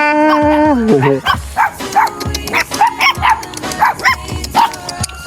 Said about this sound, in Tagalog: may tutang incoming! Tuta!